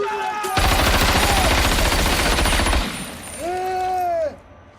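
Close, loud burst of rapid gunfire lasting about two seconds, followed by a voice speaking near a motorcycle rider in a Bluetooth helmet-communication setup.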